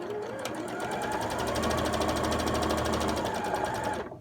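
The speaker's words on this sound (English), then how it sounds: "I'm going to do a little bit of forward stitch, go back to the start, take my pin out, go all the way to the end" A sewing machine runs continuously, stitching a scrubs hat with a rapid, even mechanical whir and needle chatter that starts and stops within a few seconds.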